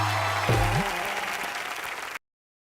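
Studio audience on an Indian TV comedy show breaks into loud, dense applause that starts at full strength and holds steadily, then cuts off abruptly after about two seconds.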